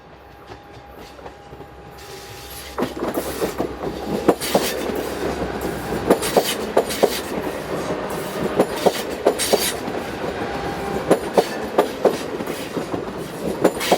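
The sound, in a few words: Class 681 Pendolino train passing through a station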